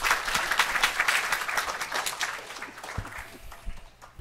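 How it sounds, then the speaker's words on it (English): A congregation at a Sunday satsang at Maharshi Dayananda Gurukula claps for the children, with a dense burst of applause that thins and fades toward the end. "I want you to give all the children a big round of applause."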